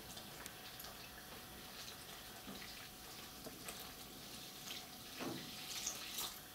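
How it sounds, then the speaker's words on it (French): Warm water, fifty centilitres, pours into a gluten-free bread dough mix with thyme and rosemary: a soft, steady watery rush with faint splashes, quiet and continuous throughout, with no voices. "On ajoute 50 centilitres d'eau tiède."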